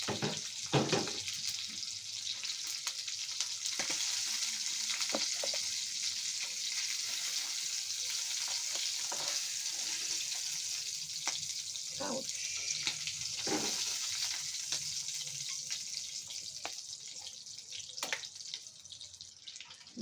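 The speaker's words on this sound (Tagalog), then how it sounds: "Dito na rin tayo magluluto ng sinangag sa pinagprituhan ng tulingan." Garlic rice frying in a pan of oil left over from frying tuna, a steady close sizzle and crackle running throughout with occasional clinks and taps, in a home kitchen.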